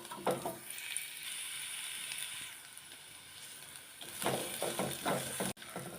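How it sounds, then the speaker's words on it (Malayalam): Ginger, garlic, curry leaves and bird's eye chilies fry in a pan, a steady close sizzle with occasional stirring scrapes and clatters. "പിന്നെ നമ്മുടെ അരിഞ്ഞു വെച്ച ഇഞ്ചി വെളുത്തുള്ളി കറിവേപ്പില പിന്നെ നമ്മുടെ രണ്ട് കാന്താരിമുളകും ഇത് ഒരുമാതിരി ഒന്ന് മൂത്ത് കഴിയുമ്പോൾ"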